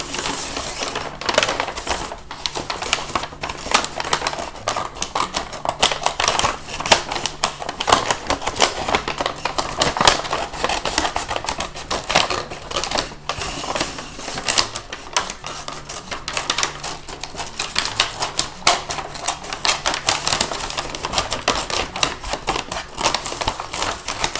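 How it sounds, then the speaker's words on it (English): Scissors punch and cut through a paper bag in a long run of rapid, crisp crunching and snipping clicks, close and continuous with brief pauses, paper rustling throughout. "you want to kind of punch with your scissors so that you can cut that hole"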